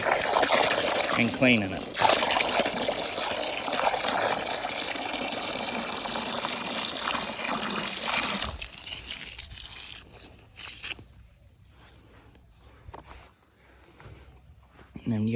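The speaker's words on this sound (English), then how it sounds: "fill the container up that was full of the scraps to begin with water" Water from a tap gushes steadily into a container that held compost scraps, loud and continuous for several seconds before stopping, followed by quieter trickles and handling sounds while a person talks.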